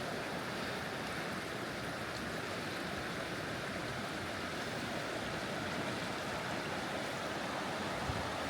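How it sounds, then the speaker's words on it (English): Fast-flowing river water tumbles through rapids in a steady, dense rushing roar, close by and continuous with no voices. "There's a lot of fast water in this area"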